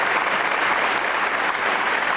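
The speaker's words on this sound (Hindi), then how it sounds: "आप तालियां बजाइए आदरणीय नीरज जी के लिए" Dense, steady applause from a large audience at a kavi sammelan poetry gathering, continuous clapping filling the hall without pause.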